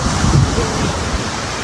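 Surf rolls in at Looe beach in Cornwall on a rainy day, a continuous loud wash of waves with heavy wind rumbling against the microphone and no clear speech.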